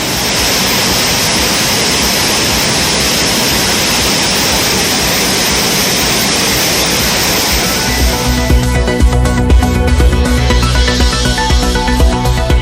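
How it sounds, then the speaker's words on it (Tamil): Thirparappu waterfall in flood after water was released from the Pechiparai dam roars loudly and continuously. In the later seconds, tonal music plays under the roar. "பேச்சிப்பாறை அணையிலிருந்து நீர் திறக்கப்பட்டதால் திற்பரப்பு அருவியில் வெள்ளப்பெருக்கு."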